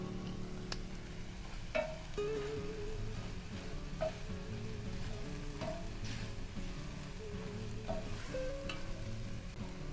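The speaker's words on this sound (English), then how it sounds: "let's toss in the garlic. And garlic you never want to saute for more than 30 to 60 seconds" Garlic sautéing in a pan while making a plant-based gnocchi chowder, a steady close sizzle with occasional stirring scrapes and clinks running for the whole stretch.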